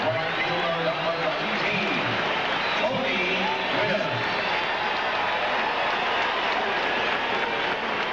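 Baseball stadium crowd applauding Tony Gwynn of San Diego as he comes to bat against the New York Mets in 1998, a steady, dense roar of clapping and cheering that fills the whole stretch, with a commentator's voice faintly underneath.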